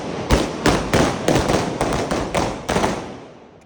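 Diwali firecrackers burst in a rapid series of sharp, loud bangs, about eight blasts within a few seconds, each with a short crackling decay, close by and with no talking.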